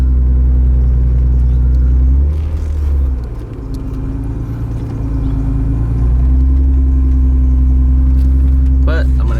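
A supercharged Acura NSX drives with a loud, deep engine drone that dips briefly in the middle and then resumes its steady rumble, heard close up.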